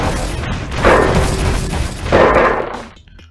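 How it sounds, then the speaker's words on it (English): Booming crashes sound as crumbly walls and rock columns are smashed in the Secret of the Blank Dungeon video game, with two heavy rumbling impacts about a second apart over a dense, noisy game soundtrack. "it's a mindless hack and slash room, where you break down crumbly walls and destroy rock columns"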